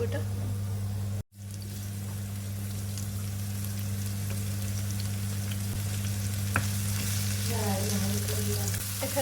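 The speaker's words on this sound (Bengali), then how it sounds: "কাঁচামরিচ আর পেঁয়াজটা ভেজে নিই ভালো করে" Green chilies and onion fry in a wok with a steady, continuous sizzle after a brief cut, punctuated by occasional stirring clinks.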